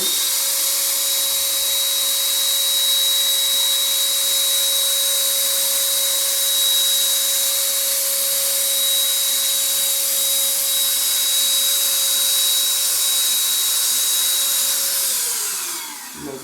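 A Parkside PFSA 20-Li A1 cordless paint sprayer runs while spraying paint onto a wall, a loud, steady motor whine with a constant pitch and airy hiss that continues unbroken before winding down and stopping at the end.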